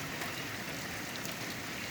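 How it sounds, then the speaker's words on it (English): Rain falls during a storm as a faint, steady hiss of drops on surfaces, continuous and even throughout with no voices. "so it is raining right now."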